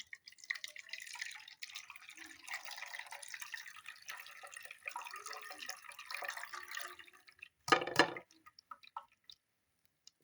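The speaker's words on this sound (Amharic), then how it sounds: "የፈጨነውን እናጠለዋለን።" Blended mint juice is strained, with soft, continuous trickling and dripping of liquid through a strainer, close and fairly quiet, ending in a brief louder splash before it tapers off.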